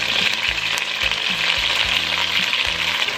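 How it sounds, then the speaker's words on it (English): Flipped steak sizzling and frying steadily in a hot pan for a stew-style steak and potato pie, a continuous dense crackle with soft stirring scrapes recurring underneath. "Now I am going to flip the meat."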